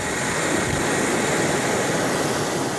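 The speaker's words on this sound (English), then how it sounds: "We're flown in by military helicopter, the only way into Palma right now" A military helicopter in flight over remote Cabo Delgado province, Mozambique, heard from inside or close by as a loud, constant roar of engine and rotor wash.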